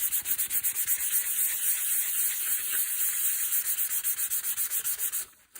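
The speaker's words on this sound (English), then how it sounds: "this is why I prefer these sanding pads" Steady rhythmic scrubbing of a sanding pad on a wooden Beretta 690 gun stock, quick back-and-forth strokes, close and continuous, stopping abruptly near the end.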